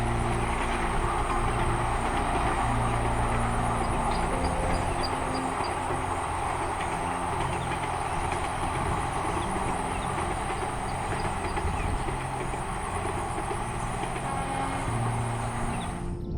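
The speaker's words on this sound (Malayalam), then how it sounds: "പാലത്തിലൂടെ ട്രെയിൻ കടന്നു പോകുന്ന" A train crossing a bridge in rural Palakkad, Kerala: a steady, loud rumble with continuous rail noise and a high metallic whine throughout, sustained without talk.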